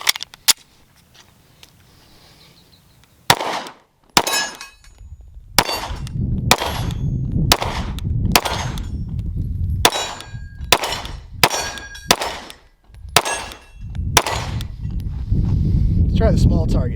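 Sig P320 pistol with a Go Gun USA gas pedal fires about a dozen sharp shots, each followed by a bright metallic ring from steel targets, in an irregular string after a quiet start, with a voice speaking between some shots.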